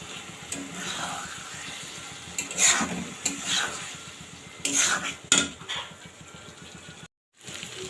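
Chopped beef brains hitting a hot pan to fry, with sizzling, a utensil stirring and scraping against the pan, and a few sharp clanks before a brief silence.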